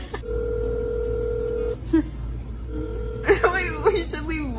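Electronic telephone tones sound while a prank call is placed: a steady two-pitch tone holds for over a second, resumes after a brief gap, then voices break in with excited talk near the end.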